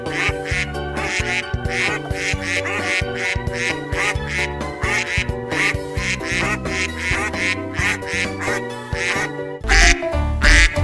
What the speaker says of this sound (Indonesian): lihat teman-teman, ada bebek warna merah